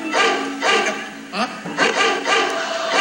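A dog barks several times in quick bursts at a Filipino home, loud and close, mixed with people talking nearby.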